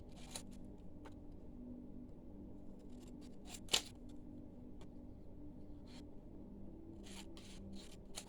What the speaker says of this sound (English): I'm just going to do a straight cut down the edge.